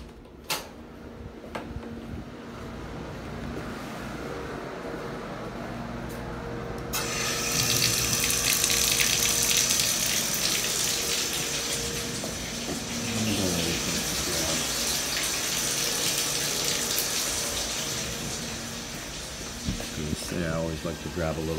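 Water runs steadily from a tub spout during a leak test on a ProPress-fitted line, a strong hiss of flow starting partway through and continuing at constant level under faint clatter.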